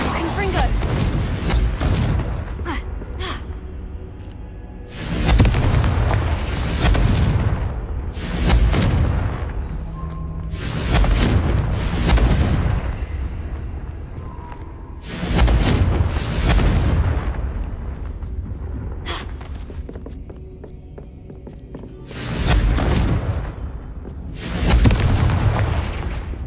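Confringo fire-blast spells cast in Hogwarts Legacy, a series of heavy booming explosions going off every few seconds with rumbling tails, loud and close, amid game combat.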